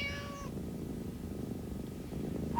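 A cat in a commercial gives one short, clear meow at the start, followed by a low, rumbling background murmur that runs to the end.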